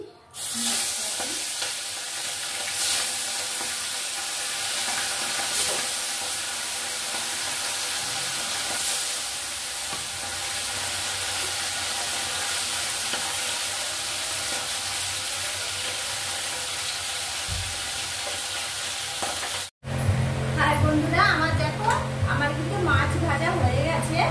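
Bhola fish sizzles in hot oil in a pan, a loud, steady hiss of frying that runs unbroken for about twenty seconds, then cuts off abruptly as a voice starts talking.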